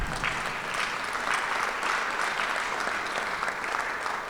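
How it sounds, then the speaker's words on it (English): A Rotary Club of Cincinnati meeting audience claps together in dense, continuous applause from a roomful of hands, steady and even throughout with no speech on top. "you can clap for that."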